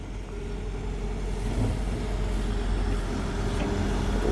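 A brand-new Kobelco SK140-11 excavator with a 4JJ engine works its first job, giving off a steady, low diesel drone at close range with slight rises in load and no voices.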